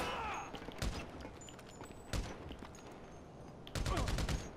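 Gunfire in the video game GTA V: three separate loud, sharp shots or short bursts, spaced about a second or more apart, over a continuous bed of game background noise.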